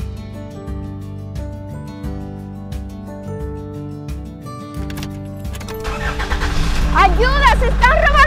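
A car's engine starts and it pulls away, rising into a low rumble under background music, while a voice shouts over the final seconds.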